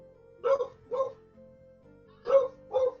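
A puppy barks in two pairs of short, sharp yaps separated by a pause, close and loud against a quiet room with a faint low hum.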